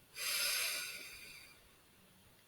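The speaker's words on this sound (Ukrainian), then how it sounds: "Зробіть глибокий вдох" A single deep inhale taken as a breathing exercise, a close airy rush of breath that swells quickly, holds steady for about a second, then tapers off, with no talking.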